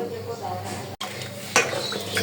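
Something soaking in a pot of water is swished and stirred around by hand, giving wet sloshing and clattering against the vessel, with one sharp short gap and a louder splashy clatter near the end.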